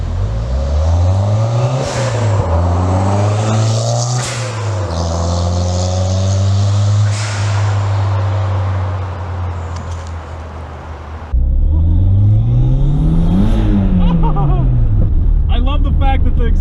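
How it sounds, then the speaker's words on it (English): Toyota MR2 sports car being driven, its engine and exhaust rising and falling steadily through the revs with gear changes, a smooth, loud, close tone that shifts abruptly partway through. "I love the fact that the exhaust isn't droney either."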